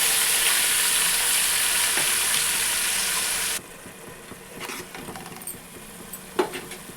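Onion and tomato paste frying in oil for prawn biryani, a loud, dense sizzle that drops abruptly to a quieter bubbling crackle with a few sharp spatters near the end.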